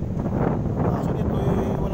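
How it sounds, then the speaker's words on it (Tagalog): Strong wind blows steadily across a seashore, a broad continuous roar buffeting the microphone throughout. "Napakalakas ng hangin"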